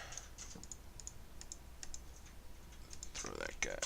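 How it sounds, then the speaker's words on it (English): Keyboard typing at a computer during a modded Minecraft session: scattered light key clicks in short bursts, fairly close, with a louder flurry of clicks near the end and no speech. "Can you type more quietly?"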